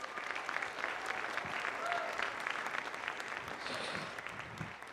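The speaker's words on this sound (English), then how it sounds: "Can we just have one more round of applause for their incredible work?" Audience applause after a middle and high school band winter concert, a sustained, dense wash of clapping from a large crowd, with faint voices mixed in.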